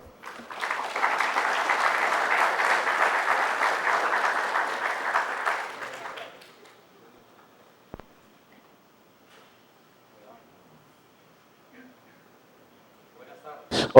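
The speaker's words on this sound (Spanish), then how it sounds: "Un fuerte aplauso." A seminar audience breaks into strong applause for a speaker's introduction. It is loud and sustained for about six seconds, then fades into near silence with a faint click or two.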